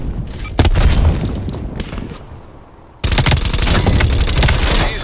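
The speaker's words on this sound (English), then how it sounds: "Throwing grenade." A grenade thrown and detonating during a Call of Duty Black Ops Cold War firefight: a loud, dense blast of booms and crackling gunfire, dipping briefly before a sudden, powerful burst of sustained explosive noise.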